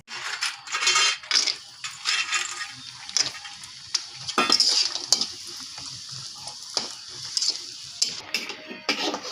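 Lentil dumplings (bori) fry in hot oil, with a continuous close-up sizzle broken by repeated sharp scraping and stirring bursts from a utensil in the pan, and no voices.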